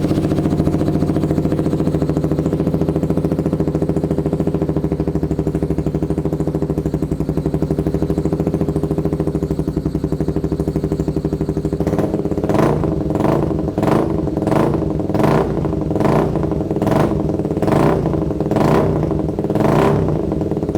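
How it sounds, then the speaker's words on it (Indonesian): Motorcycle fitted with a custom WRC Racing exhaust, loud and close: about twelve seconds of a steady rumbling idle, then a quick series of sharp throttle blips that rise and fall in a fast rhythm. "langsung kita dengerin aja suara knalpotnya si Indah seperti apa"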